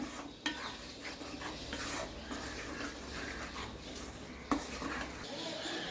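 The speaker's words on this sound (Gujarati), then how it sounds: "છીણ નાખ્યા બાદ તમારે સારી રીતે મિક્સ કરી લેવાનું અને 2 થી 3 મિનિટ માટે સાંતળી લેવાનું છે" Grated fresh green corn being mixed and sautéed in a pan for chevdo, heard as a quiet, soft sizzle with scraping stirs and two clear utensil clanks against the pan.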